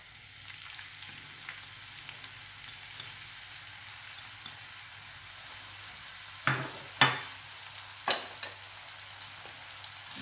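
Chopped onion frying in olive oil inside a tagine gives a soft, steady sizzle throughout, with a few sharp utensil clinks near the end as it is stirred.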